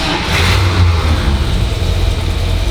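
A Buick car engine runs steadily and loud with a low rumbling hum, revving slightly during a generator check, with no talking over it.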